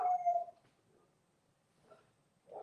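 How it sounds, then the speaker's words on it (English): A dog howls indoors in a long wavering cry near the start, then gives shorter whining calls that break off and return at the end, with no talking over it. "Do you hear my dog?"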